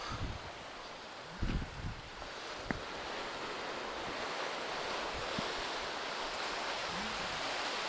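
Sea water surges and washes through a rock tunnel at Caves Beach, a steady broad rushing hiss of surf with a few brief knocks and light wind noise, continuous and moderately distant.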